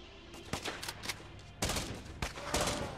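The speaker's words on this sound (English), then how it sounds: "Assault rifle." Assault rifle fire in the zombie survival game Infection Free Zone comes as short bursts of sharp shots, several rapid cracks in quick succession with brief pauses between them, fairly close and prominent.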